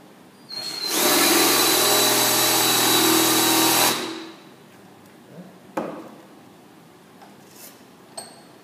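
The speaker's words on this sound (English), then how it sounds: "now I'm going to drill a piece of steel with it" A drill grinds loudly and steadily for about three seconds boring into a piece of steel through a pilot hole, then stops, leaving a few faint clicks and taps in a quiet room.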